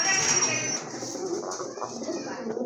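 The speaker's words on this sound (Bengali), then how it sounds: "আর মাশাআল্লাহ মোটামুটি ভালোই ডাকে কিন্তু কবুতরগুলো" Pigeons call and coo in a loft of pigeons kept for sale, their soft calls steady and moderately near with a little background noise.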